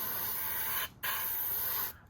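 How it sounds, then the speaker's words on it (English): An airbrush sprays paint onto a Tamiya 1/48 F-14A Tomcat scale model, two close hissing bursts separated by a brief pause. "I'm going to go ahead and spray up into that area"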